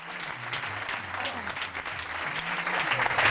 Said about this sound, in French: Je crois qu'on peut faire un tonnerre d'applaudissements pour Charles.